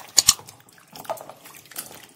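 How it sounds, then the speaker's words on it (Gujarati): Potato slices for French fries are swished and rinsed in a bowl of water, giving a few short splashy clinks and sloshes with quiet gaps between them. "ફરી આપણે ત્રીજી વાર પાણી રેડીશું અને ફરી આપણે તેને સારી રીતે ધોઈશું"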